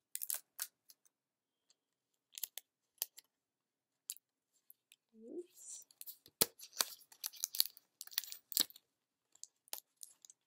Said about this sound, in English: And then I'm going to tape it.